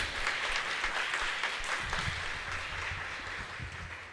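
A church congregation applauds after a reading, steady dense clapping that fills the space and then slowly tapers off.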